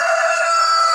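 A rooster crowing loudly and close by, one sustained bright call filling the moment, from chickens kept in a rooftop store room.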